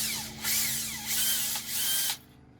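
A Bosch cordless drill motor whirs in three short bursts with brief pauses between, close and steady, then cuts off into quiet.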